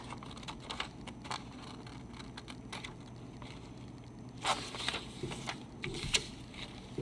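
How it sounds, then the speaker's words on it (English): Scissors cut paper down a folded crease for a craft project, giving a dry, crisp crunching with scattered snips and a few louder bursts near the end, close and moderately quiet. "So you cut the one side down the crease,"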